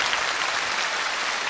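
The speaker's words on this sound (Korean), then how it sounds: "박수 한번 다시 보내주십시오" A live television singing-contest audience in Busan claps in a dense, steady wash of applause, even in level throughout with no voices over it.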